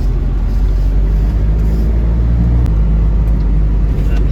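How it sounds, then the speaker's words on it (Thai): A van engine labours up a steep, winding mountain road in Nan in low gear, a loud, steady low rumble and drone heard from inside the vehicle without pause. "ผมนี่ต้องใส่เกียร์สโลขึ้นมาตลอดเลย"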